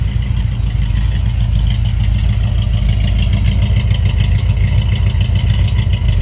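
A 1983 Chevy Silverado pickup with a new exhaust idles steadily nearby, a deep, even low rumble with a faint rhythmic clatter running alone and unbroken throughout.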